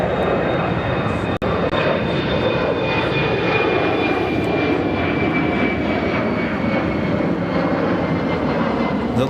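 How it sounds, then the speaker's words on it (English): A United Airlines Boeing 777 airliner, flight to Denver from Chicago O'Hare, roars steadily and loudly throughout, a broad jet-engine rumble with a high whine fading after a few seconds and a brief sharp click early on. "that's a 777. United Airlines flight 1588 heading to Denver"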